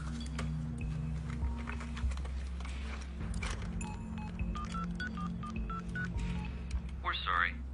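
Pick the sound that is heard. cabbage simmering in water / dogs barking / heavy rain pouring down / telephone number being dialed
telephone number being dialed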